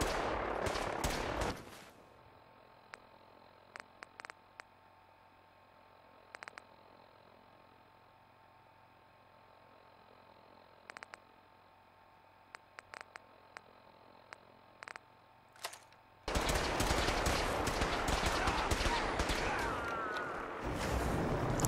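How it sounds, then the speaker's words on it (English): Gunfire and grenades in Fallout 4: an opening burst of heavy shots, then sparse single shots and short clicks over a low hum, before loud sustained rapid fire and explosions close out the fight. "People throwing grenades and shit."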